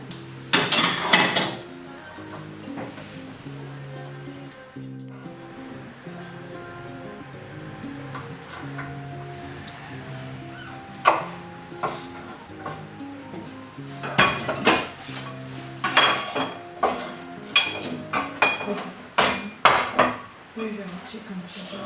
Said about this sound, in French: La découpe de haricot vert.